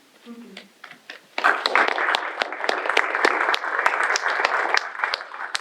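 An audience at an improv comedy show breaks into steady applause after a brief spoken moment, the clapping swelling to a full, sustained round that continues to the end.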